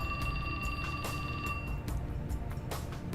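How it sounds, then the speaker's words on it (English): A phone rings in the 428 Shibuya Scramble video game, a steady repeating electronic tone over a loud, dense background of game music and ambience. "His phone rang."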